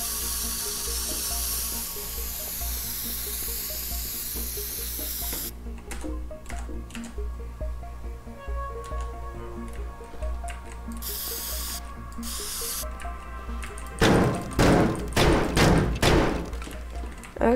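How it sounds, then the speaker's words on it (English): A spray can hissing in the Teardown video game, a long steady spray followed by a run of sharp thumps and clatters, with a burst of louder crashing impacts near the end. "we just run this one in a spray can"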